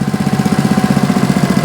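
A tractor engine idles after a cold start with the throttle turned down, putting out a loud, close, steady low chugging pulse in an even rapid rhythm, with no voices over it.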